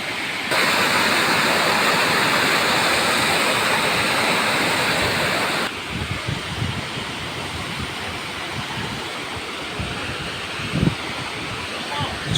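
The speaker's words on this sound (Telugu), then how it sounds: "ఇన్ఫ్యాక్ట్ చాలా పెద్దదైన జలపాతం, ఏపీలోనే one of the best water falls centre" Kottapalli waterfall in Andhra Pradesh roaring as a loud, continuous broadband rush of falling water, close and steady throughout, with the level shifting slightly partway as the vantage point moves.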